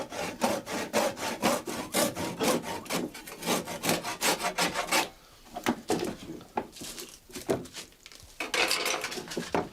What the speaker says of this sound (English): Bernhard Nellison saws off the protruding fork ends with a handsaw.